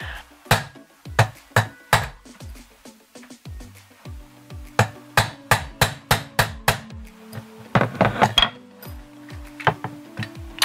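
Sharp metallic hammer blows drive a 1/16 inch punch against an AR15 pin, struck in irregular bursts of quick taps with short pauses, close and loud.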